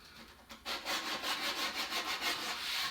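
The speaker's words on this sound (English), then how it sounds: "some 80 or 100 grit sandpaper, you can take it to kind of knock the edges off" Wood edges being rounded off by hand with 80 or 100 grit sandpaper, quiet rhythmic back-and-forth rasping strokes in quick steady succession, close up.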